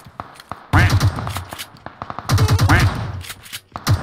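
Rapid bursts of M16 rifle fire in PUBG, two loud clusters of quick, close shots separated by scattered single cracks and quieter distant reports.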